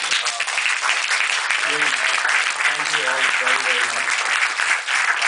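An audience at a film premiere Q&A applauds steadily, a dense wash of clapping that holds fairly loud for the whole stretch, with a few faint voices mixed in.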